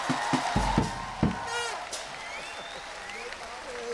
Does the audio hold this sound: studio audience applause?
yes